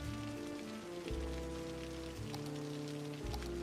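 Rain in the city-building game Cities Skylines 2 pours as a constant gentle hiss beneath sustained, layered background music, with no voices.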